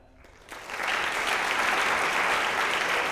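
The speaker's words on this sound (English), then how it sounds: "So a big round of applause for them." Sustained audience applause at an awards night, rising quickly after a brief quiet start into dense, steady clapping from a large crowd that fills the room without pause.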